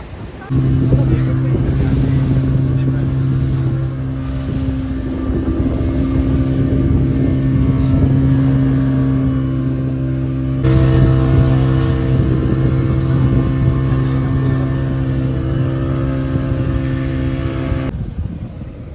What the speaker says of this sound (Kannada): ನಮ್ಮ ಬೋಟ್ ಬಂತು. ಇವಾಗ ನಾವು ಐಲ್ಯಾಂಡ್ಗೆ ಹೋಗ್ತಾ ಇದ್ದೀವಿ.